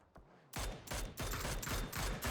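A string of rapid, loud gunshots from the video game PUBG, fired in close bursts one after another.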